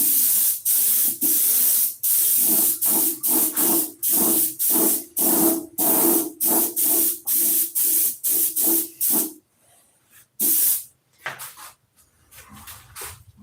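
Rapid bursts from an aerosol spray can lay down a coat of paint, about twenty short hisses in a steady rhythm, then a few scattered longer sprays. The sound is close and loud, with no talking.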